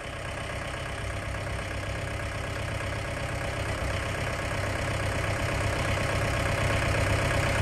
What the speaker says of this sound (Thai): รถไถก็ดึงครับแมคโครก็ดัน